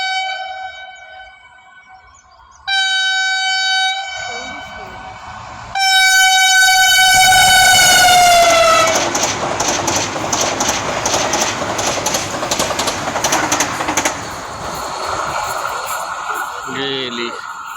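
A Vande Bharat express train sounds long, loud horn blasts in several bursts at Kadvai station in Konkan, then thunders past with a heavy rolling rush and clatter of wheels that gradually fades. People talk nearby.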